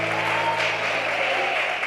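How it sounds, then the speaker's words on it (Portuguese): A church congregation applauds in praise to Jesus during a pastor's testimony, a dense, steady wash of clapping from a crowd that holds evenly at full strength from start to finish. "Dê uma salva de palmas para Jesus."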